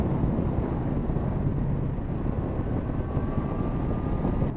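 Steady low roaring rumble of wind buffeting a motorcycle helmet microphone on a ride, constant and loud throughout with a faint tonal whine rising in the background.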